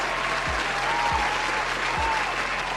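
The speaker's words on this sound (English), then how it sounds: "And give him a round of applause." An audience gives a steady, dense round of applause. Short low thumps recur three times beneath the clapping.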